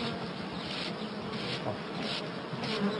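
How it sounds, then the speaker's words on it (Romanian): Bees and wasps buzz in a dense, steady drone as they are brushed and shaken off a hive frame in a garden in autumn, a continuous close swarm hum with no talk. "pentru că voi scutura rama de albine"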